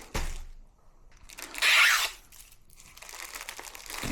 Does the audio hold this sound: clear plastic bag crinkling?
yes